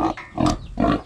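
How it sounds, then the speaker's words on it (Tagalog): A pig on a farm grunts in three close, loud bursts, each a rough throaty snort repeated over about a second with no other sounds. "Pakain po natin sa baboy."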